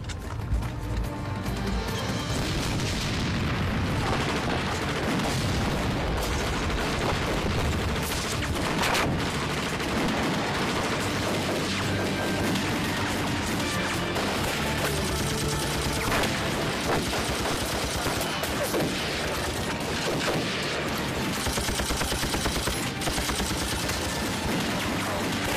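Dense, continuous gunfire fills a scene from an action martial-arts gangster film, with loud overlapping bursts and crashing impacts that barely let up for the whole stretch.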